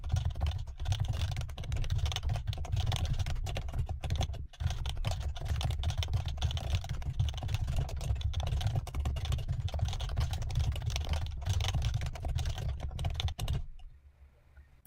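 Code is typed on a computer keyboard in a fast, steady stream of close clicking keystrokes that carries on nearly the whole time, then stops abruptly just before the end.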